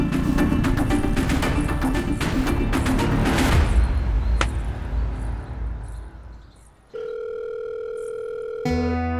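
A telephone rings unanswered at night in a Hindi crime drama, entering after a loud burst of booming, crackling noise fades, then holding as a steady electronic tone with no voices.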